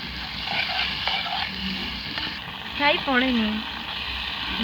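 Country chicken sautéing in a pan, a steady bright sizzle with light stirring scrapes, briefly joined near the middle by a soft voice.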